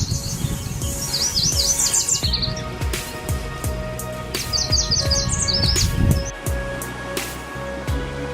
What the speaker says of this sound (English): The water, the birds singing